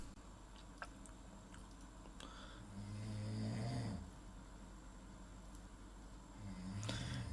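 A person snores loudly during a podcast session, with two long, rasping snores a few seconds apart over a steady background hum, close to the microphone.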